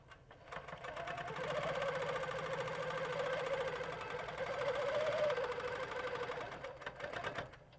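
A sewing machine stitching a quilt block runs in a continuous close, even whirring hum for several seconds, starting and stopping cleanly, with no talk.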